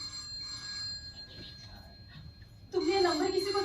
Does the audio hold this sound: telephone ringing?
yes